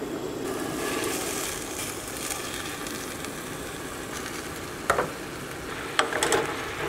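Fresh tomatoes drop into hot olive oil in a pan on a kamado grill, setting off a steady soft sizzle with a few sharp clacks and splats near the end.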